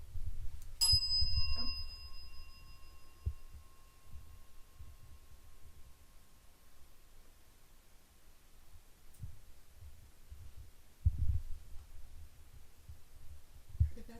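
A ghost-hunting dead bell gives a single bright ring early on that decays over several seconds, followed by quiet low thumps and faint rustling in a still indoor room.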